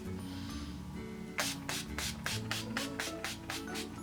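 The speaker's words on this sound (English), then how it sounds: "Whenever I spray my face with a setting spray" A quick series of about ten sharp spray bursts from a pump bottle of makeup setting spray onto a face, evenly spaced, close and fairly loud over quiet background.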